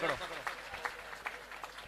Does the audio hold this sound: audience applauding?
yes